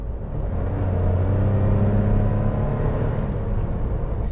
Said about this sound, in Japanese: これとても1リットルエンジンの加速とは思えないぐらい速いんです